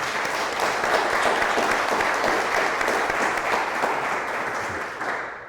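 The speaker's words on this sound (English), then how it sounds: "please give a round of applause for Mayor Tom Clark" An audience applauds Mayor Tom Clark at an oral history event, steady dense clapping filling the room throughout, fading slightly at the end.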